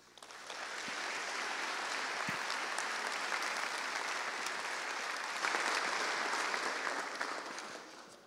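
Sustained, dense applause from a conference audience welcoming a keynote speaker at BruCON, rising quickly and holding steady for several seconds before tapering off, with no talk over it.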